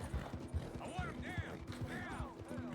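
Horse in the video game Red Dead Redemption 2 clopping along in a steady, close hoof rhythm, with someone talking excitedly over it throughout.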